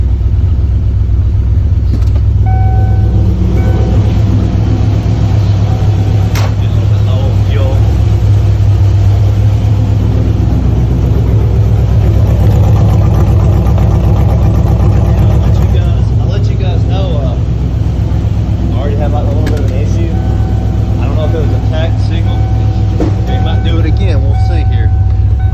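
Car engine fitted with Holley Sniper fuel injection running steadily with a deep, loud rumble from start to finish, while a person talks over it in places.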